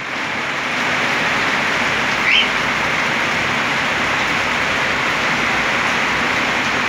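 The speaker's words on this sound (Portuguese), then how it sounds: "Chovendo, respingando umas gotas aqui dentro do viveiro." Rain falls steadily on a cockatiel aviary, a loud, constant hiss of drops spattering on surfaces, with one brief higher chirp from a bird partway through.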